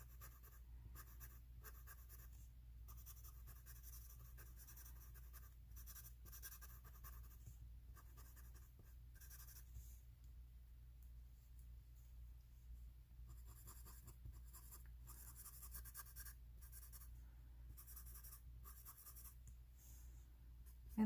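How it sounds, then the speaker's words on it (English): A super bright green Sharpie marker colors in seaweed on paper, with soft repeated scratchy strokes that come in short bursts separated by brief pauses, close and quiet, with no voices. "I pulled this super bright green Sharpie, and I'm going to quickly come in and do my seaweed with it here"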